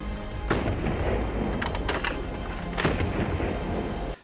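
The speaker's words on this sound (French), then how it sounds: "Chaque fois que la pompe est repoussée en avant, le coup de feu part." A pump-action shotgun fires rapidly in slamfire fashion, each shot going off as the pump slides forward, giving a dense, booming run of blasts with little gap between them.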